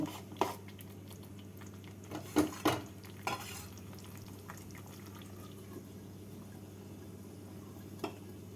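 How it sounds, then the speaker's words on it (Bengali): A spoon stirs eggs through curry gravy in a pan on a low flame, a few soft scrapes and clinks over a quiet background with long calm gaps. "ডিমগুলোকে দিয়ে ঝোলের সাথে নাড়াচাড়া করে নিচ্ছি"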